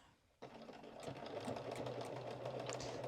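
A sewing machine stitches a vest seam, starting abruptly and then running in a steady, close, quiet mechanical whir with no talk.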